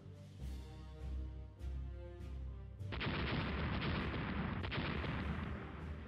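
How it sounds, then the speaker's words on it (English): Secondary-battery naval guns fire in the Rule The Waves naval battle game: several deep booming shots at first, then a dense, continuous roar of overlapping gunfire that sustains to the end. "the secondary battery on the Dreadwolves are coming into action"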